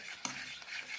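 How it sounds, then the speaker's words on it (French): A spoon stirs a homemade non-toxic play dough mixture in a bowl, a soft close scraping swirl with one brief tap of the utensil against the side. "le temps que Chloé continue à mélanger, on va rajouter quelques gouttes de colorant"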